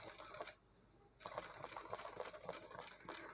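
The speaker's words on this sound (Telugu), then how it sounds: "ఈ జాక్ ఎఫ్ఐ మిషన్ చాలా ఫాస్ట్గా ఉందండి" Jack F1 sewing machine stitching maggam cut work on a blouse, a fast, steady mechanical rattle that stops briefly near the start and then resumes, close and clear.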